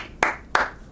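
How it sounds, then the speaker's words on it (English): Two crisp hand claps, evenly spaced about a third of a second apart, ring out close and clear against near silence while clapping along to a children's song. "Come along and clap with me, clap with me, clap with me."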